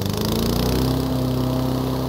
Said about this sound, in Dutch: De buurman gaat zijn gras maaien